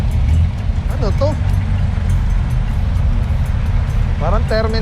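Steady traffic rumble at a jeepney terminal in Quezon City, with engines idling and passing vehicles as a loud continuous low drone; people talk briefly over it.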